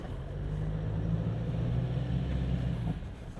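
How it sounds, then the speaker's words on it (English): A Toyota HiLux dual-cab ute engine rumbles steadily as the throttle is eased on during an off-road flex test, a low continuous drone that holds for about three seconds before easing off. "No problemos, so I'll roll onto the throttle now."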